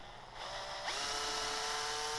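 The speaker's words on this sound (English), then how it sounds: "Before tapping, I go in with the appropriate size drill." A power drill with a 2.5 millimetre bit whirs steadily while clearing out holes for M3 threads, a faint continuous motor whine that rises slightly in pitch after starting.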